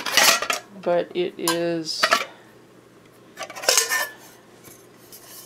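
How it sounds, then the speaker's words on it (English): Metal pots from a Coleman Max nesting camp cooking kit clank and rattle in bursts near the mic, with someone briefly talking between the clatters. "This is the Coleman Max cooking kit. It's a noisy little bugger"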